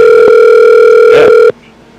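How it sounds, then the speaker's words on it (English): A steady telephone dial tone hums loud and constant for about a second and a half, then cuts off abruptly, leaving faint room noise. "I want to test out the phone call thing."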